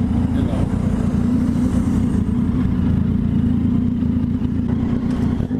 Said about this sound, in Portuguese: o motoca acelera a sua Tiger 800 cilindradas e deixa ele pra trás